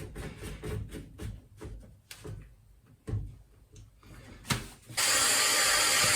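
Plastic trap fitting under a bathroom sink being tightened by hand, giving a series of close, rhythmic ratcheting clicks and creaks that end in a sudden steady rush, likely running water.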